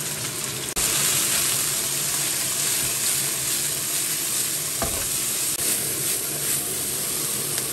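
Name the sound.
stir-frying chili peppers in a wok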